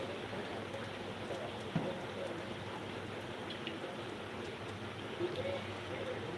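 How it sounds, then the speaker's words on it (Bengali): Light drizzling rain falls steadily as a soft, even hiss and patter, close and continuous with a few faint ticks of drops on a surface. "ঝিরি ঝিরি একদম বৃষ্টি হচ্ছে"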